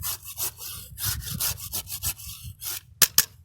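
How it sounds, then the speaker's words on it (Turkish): A power cutter bites into a walnut branch to open a graft slot, giving a series of rough, rasping bursts of cutting close up, followed by a couple of sharp scraping strokes. "Bunu da kesim motoruyla açma yapıyoruz."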